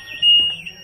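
Parked electric scooters on a street in Quanzhou, China, toppling over and setting off their alarms: loud, close, high-pitched electronic alarm tones that swell briefly, with faint background noise.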